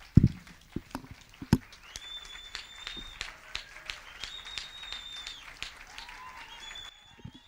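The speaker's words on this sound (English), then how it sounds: "so that we can give them all a round of applause" Audience applause at a leadership and debate event, a dense patter of clapping that runs steadily for several seconds, with a few louder claps at the start, then cuts off abruptly near the end.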